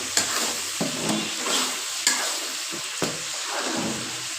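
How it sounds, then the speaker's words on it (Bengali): Batter frying in hot oil, a steady bright sizzle with soft stirring or scraping knocks at irregular intervals, moderately loud and close, with no voices. "তেল গরম হয়ে গেছে, এর মধ্যে ব্যাটারটা ঢেলে দিতে হবে।"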